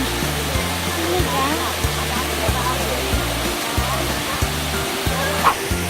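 Ko Luang waterfall in Mae Ping National Park, Li district, Lamphun, sends out a steady broadband rush of falling water, with a rhythmic low thumping pattern running beneath it throughout.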